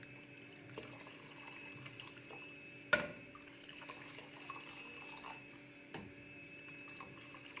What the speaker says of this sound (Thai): การคนชา เขาจะไม่คนแบบวนๆเหมือนบ้านเรานะคะ แต่เขาจะทำแบบนี้